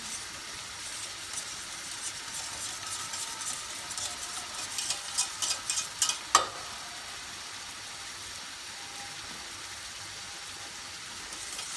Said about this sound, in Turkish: bir yumurta ekliyorum. Bunu çırpalım şimdi. Hemen çırpmaya başlıyorum.